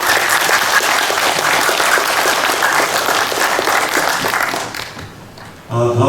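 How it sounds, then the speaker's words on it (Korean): Audience applause at a civic rally in Chuncheon for a professor, a dense steady clapping that fills most of the stretch before fading out, followed by a brief burst of other sound at the end. "우리 다시 한번 한 박사님께 박수 부탁드리겠습니다."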